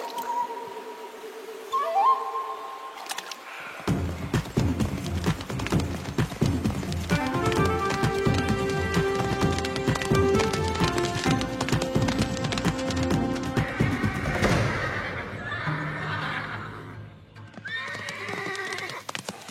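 Horses gallop hard in an animated outdoor scene, a busy pounding of hooves under dramatic orchestral music, with a whinny near the start and the clatter running steadily throughout.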